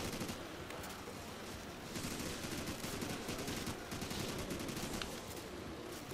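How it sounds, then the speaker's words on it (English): Rapid automatic AK-47 fire boosted by the Double Tap perk in a zombies video game, a dense, continuous rattle of shots filling the whole stretch at steady loudness. "AK-47 with double tap is fucking crazy."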